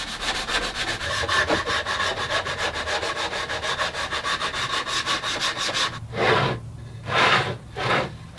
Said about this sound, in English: Sanding. Yes, sanding.